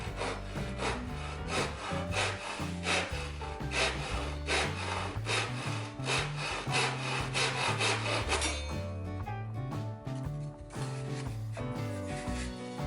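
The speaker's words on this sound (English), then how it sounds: "I put the planks in my vise and filed them down to their final radius using a hand file." A hand file works wooden planks clamped in a vise down to a radius, making loud, close, rhythmic rasping strokes that repeat steadily and then ease off toward the end.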